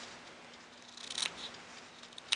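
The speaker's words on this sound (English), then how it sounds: "take your handy dandy pink scissors" Small pink crafting scissors snip shut a few times, a crisp clip near the middle and another sharp snip at the end, close and alone over quiet room tone.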